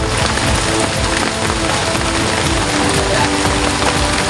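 Heavy rain pours down steadily over a rainy campsite, a dense, unbroken hiss that holds at full strength from start to finish with no voices.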